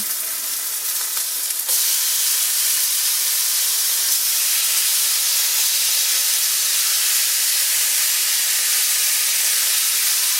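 Bacon strips sizzle loudly in a crowded pan: a dense, steady, close hiss and crackle that swells suddenly after a quieter opening and then holds at full strength, with no voices.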